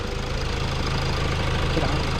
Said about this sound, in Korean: 지금 소음이 큰 거 아닙니다. 제가 저거 엔진 오일캡 열어놔서 그렇고요.